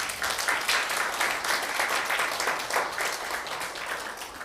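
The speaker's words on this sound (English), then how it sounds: "We give applause to Ambassador Gandi Sulistiyanto." An audience at a cultural showcase in Seoul claps for Ambassador Gandi Sulistiyanto, giving steady, even applause that holds at moderate loudness from start to finish with no voices over it.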